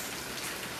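Heavy rain pouring down on a cold January night, a dense, even hiss of countless drops striking surfaces, close and constant without any talk.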